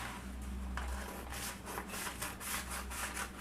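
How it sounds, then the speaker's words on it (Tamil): Scissors cut through blouse pattern paper in quick, even snips, a close rhythmic rasp of blades on paper heard alone at low level. "இப்போ பேப்பரை இந்த மாதிரி கட் பண்ணிக்கலாம்"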